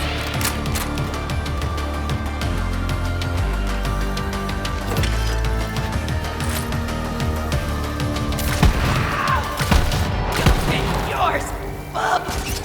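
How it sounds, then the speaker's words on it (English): Hyperion shotgun fire in a video game, with repeated thumping blasts and clatter in a dense mix of game effects, and a voice talking over it. "Now that's a Hyperion shotgun."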